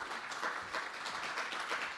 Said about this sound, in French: je vous demande de les applaudir, nos trois panélistes